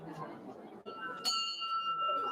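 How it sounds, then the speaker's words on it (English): A bell is struck once to open a holiday Rotary club meeting, its bright ringing tone sustaining clearly over room murmur and a voice speaking beforehand. "Ring the bell."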